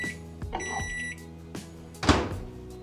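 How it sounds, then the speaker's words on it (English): Microwave oven melting butter, with button beeps and a tonal hum, a door thunk, then a loud clunk near the end. "So when I melt my butter, I just do 10 seconds, 10 seconds."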